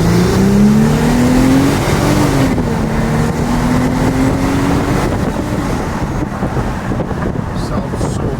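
A Mercedes W209 CLK 350 accelerating, its engine note rising steadily in pitch and then holding, loud and close with heavy wind rush over the microphone.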